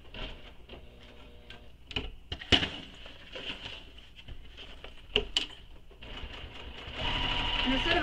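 A sewing machine stitches the box corner of a small crossbody bag in short bursts, with quick mechanical ticking and clatter, faint and close, ending in a longer continuous run.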